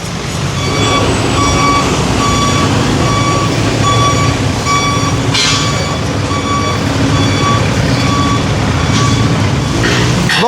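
A tow truck towing a vehicle on a street in Santa Mesa, Manila, gives loud, evenly spaced reversing beeps over a rumbling diesel engine and traffic noise, with a brief air-brake hiss.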